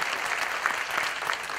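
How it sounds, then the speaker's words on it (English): Applause at a Rooster Booster breakfast gathering, a brief, dense burst of clapping from a roomful of people, fairly close and steady throughout. "give him a round of applause"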